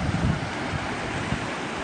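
Wind buffeting and ocean surf at a black sand beach in Hawaii, a constant loud broadband rush with gusty bumps from the wind hitting the microphone, no speech.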